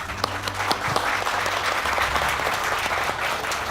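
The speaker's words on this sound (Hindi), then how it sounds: "आई वॉन्ट तालियां ऑन दिस।" An audience applauds continuously at a public talk, with dense, steady clapping from a crowd filling the room for a few seconds, loud and fairly close.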